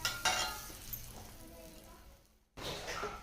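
Bread topped with a sandwich filling and spread with butter toasts in a pan, sizzling crisply up close, fading into a brief silence before the sizzle returns loudly.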